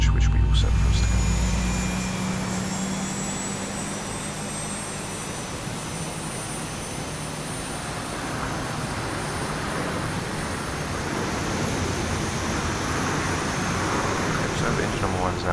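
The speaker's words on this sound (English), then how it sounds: "So engine number 1 is now coming in" A Boeing 737-700 jet engine in the X-Plane 11 flight simulator spools up during engine start: a steady, broad whooshing roar with a thin high whine, holding at a constant level throughout, while someone talks over it.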